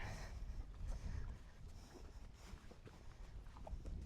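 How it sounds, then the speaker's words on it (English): Strong wind buffets the microphone with a continuous low, gusty roar that swells and eases, with no voices, outdoors beside a young horse. "Wow, it's really windy"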